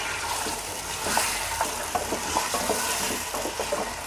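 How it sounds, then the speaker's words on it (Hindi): About 650 grams of mutton frying in a pot as it is stirred, giving a steady broadband sizzle with scattered soft scraping clicks throughout, close and moderately loud. "इसके अंदर ऐड करके इसको अच्छा सा फ्राई कर लेते हैं।"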